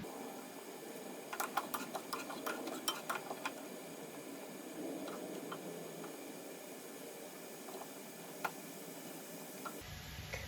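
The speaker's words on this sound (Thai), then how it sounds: "เราก็จะ คนไปเรื่อยๆนะคะ" Ingredients for a Thai Isan pickled-fish jaew, with water added, are stirred in a hot wok. Quiet scraping and clinking ticks cluster early and then thin out under a faint low background.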